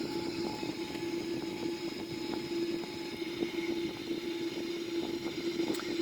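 A Boeing 787-9 engine, running after an auto start, makes a steady, even drone with a constant tonal hum that holds unchanged throughout, with no talk over it.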